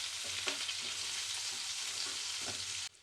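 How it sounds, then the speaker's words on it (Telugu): Onions frying in a pan until brown for an egg and beans curry, a steady close sizzle with a few brief stirring scrapes, cutting off abruptly near the end. "ఉల్లిపాయలని మాడకుండా మంచి కలర్ వచ్చే వరకు ఫ్రై చేసుకుందాము."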